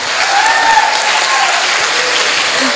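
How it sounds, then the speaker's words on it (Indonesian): Loud, sustained audience applause at a school talk show event, a dense, even roar of many hands clapping with a faint tonal whistle briefly rising above it. "Tepuk tangan buat MTS kita."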